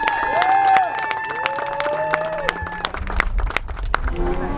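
An audience at an autocross awards party claps and cheers, scattered claps popping over a background of tonal music and crowd murmur, growing denser near the end.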